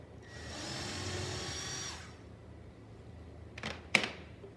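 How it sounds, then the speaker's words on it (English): A power drill bores a hole while installing a floating nightstand, with one sustained whir for about two seconds, followed by a pause and two short, sharp bursts near the end. "I'm just going to drill one pretty close to the other edge"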